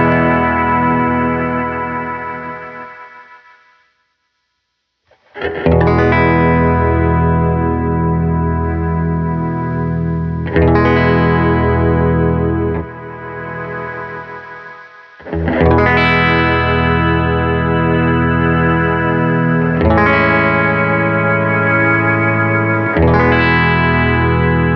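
An electric guitar plays through a Fish Circuits Astronomie spring reverb pedal, ringing chords sustaining loudly with a thick, shimmering spring-reverb wash and distortion, broken by a brief silence early on before the strumming resumes.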